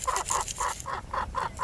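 Several chickens clucking in a steady, repeating rhythm of short calls, fairly close and moderately loud, with an older flock gathered around outdoors.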